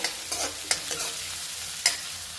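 Onion being fried for tehri rice and stirred in a pan, with a steady sizzle and several scraping stir strokes, close and alone.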